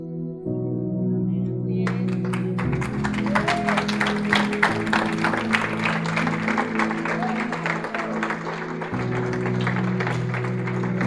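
An audience breaks into applause during a talk, a scattered clapping that swells and continues for several seconds over a sustained musical tone.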